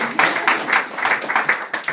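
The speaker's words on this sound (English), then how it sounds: "So give her a round of applause" A community audience at a Los Angeles gathering applauds an introduced guest, dense steady clapping with a few louder bursts and some voices under it.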